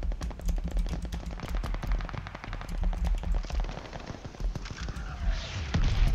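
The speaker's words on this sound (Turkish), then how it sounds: "Bir dakika, biri atış ediyor." Rapid automatic gunfire from Call of Duty Vanguard rattles on without pause, dense bursts of shots filling the whole stretch, loud and close with no voices.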